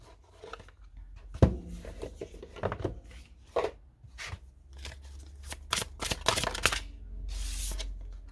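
Oracle cards being shuffled and drawn, with close, brisk riffling and flicking bursts of card noise, irregular soft slaps and a longer rustling shuffle near the end.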